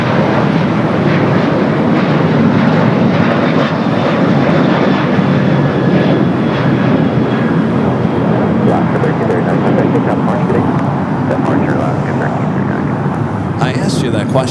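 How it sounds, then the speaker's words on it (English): An Alaska Airlines Boeing 737-800 takes off at LAX, a loud steady jet engine roar that fills the scene for a long stretch, with people talking underneath it. "Next takeoff, Alaska Airline Flight 1339 heading to SFO is 737-800."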